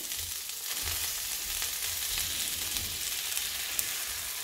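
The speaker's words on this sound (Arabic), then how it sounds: "فبالتالي نقلب البصل نتاعنا" Onions frying and sizzling in a pan, a steady close crackle with light stirring and turning noises and no talking.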